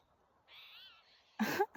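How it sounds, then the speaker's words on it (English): A bird calls outdoors in a forest, giving a short, faint hooting note followed by a louder, harsher burst of sound, with quiet surroundings between them. "I love birds."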